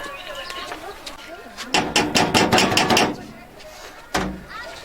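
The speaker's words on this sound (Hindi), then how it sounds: "खटखटाइए दरवाजा" Someone knocks hard and fast on a door, about eight close, loud raps in a burst and then a single knock a moment later.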